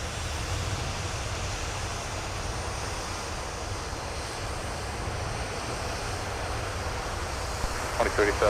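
An American Airlines jet at Minneapolis–St. Paul airport on a freezing winter night gives a steady, distant broadband roar like rushing wind, holding evenly for the whole stretch with a slight swell at the end.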